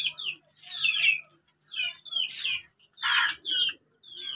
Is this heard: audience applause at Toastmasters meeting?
no